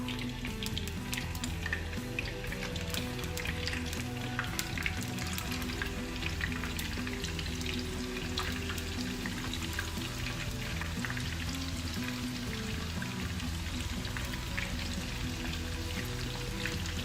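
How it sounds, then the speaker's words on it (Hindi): Koftas frying in hot oil, a dense, steady crackle and sizzle that holds evenly throughout, close and fairly loud with no voices. "अब हम करने लगे हैं कोफ्तों को फ्राई।"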